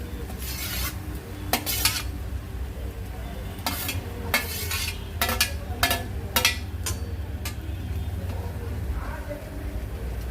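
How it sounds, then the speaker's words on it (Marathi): Shevla is stirred with masoor lentils in a frying pan, giving scattered metal scrapes of the spoon over a soft sizzle, close by, with someone talking at times. "त्यामध्ये मी शेवळा आपली घालते."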